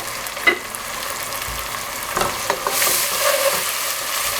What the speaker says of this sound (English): I'm frying my onions. I've got some oil and onions in my pan.